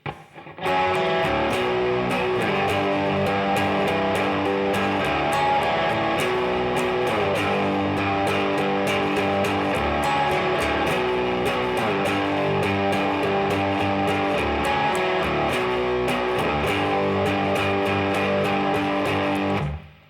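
A distorted electric guitar strums chords loudly and continuously for about twenty seconds, with a dense, gritty tone and a steady rhythmic pulse.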